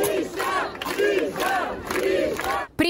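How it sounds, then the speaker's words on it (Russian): Protesters massed outside a detention centre where a detained politician is held, a loud continuous crowd roar with rhythmic collective chanting rising and falling in repeated waves, ending in a brief drop. "около изолятора, куда поместили Мишико, уже толпа митингующих"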